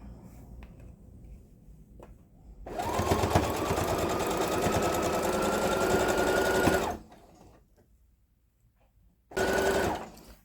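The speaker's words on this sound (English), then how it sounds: "Just let the machine guide it through, and that way it won't be stretched out when you go to wear it" A sewing machine stitches stretchy T-shirt knit fabric in a long, steady whirring run of about four seconds, stops, then runs again in a short burst, close and clear.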